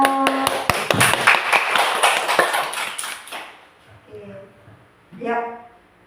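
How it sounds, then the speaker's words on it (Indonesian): A small audience claps briefly for a teacher during a school positive-culture session, a few seconds of close, loose clapping that stops abruptly, followed by quiet and a short spoken phrase. "Tepuk tangan dong buat Pak Unus."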